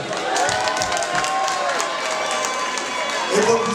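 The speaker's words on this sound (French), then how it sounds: "Attendez un applaudissement pour Aaron" Applause from the audience at a Paris fashion show in the VIP Room, loud, continuous clapping mixed with crowd voices and a few brief vocal sounds.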